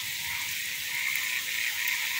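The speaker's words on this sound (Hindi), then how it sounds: "बहुत तेज बारिश हो रही है।" Heavy rain pours down outdoors, a steady, faint, even hiss of falling water with no voices.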